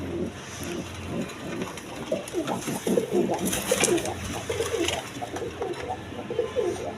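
A pair of Bombay pigeons, a nesting male and female, give repeated throaty coos in overlapping close bursts over a low background hum.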